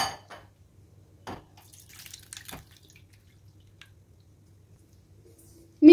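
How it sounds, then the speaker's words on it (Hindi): Watermelon pulp pressed through a coarse sieve into a bowl for juice makes a few faint, scattered squishes and drips, with long quiet gaps and a louder knock at the very end. "अब इसको दबा देंगे जिससे इसका रस निकल जाए नीचे सारा।"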